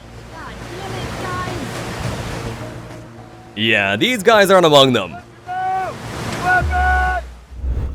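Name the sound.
whitewater rapids of the Three Rocks Rapid, Arkansas River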